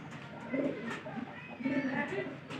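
Pigeons coo indoors inside a loft where a breeding pair is kept, soft rolling coos repeating in two or three swells over a steady murmur, close by and moderately loud.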